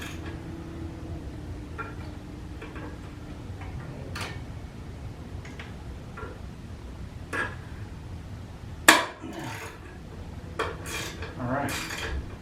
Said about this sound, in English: I'm gonna put a swivel on it and a 12mm ratchet socket, just a regular old ratchet here.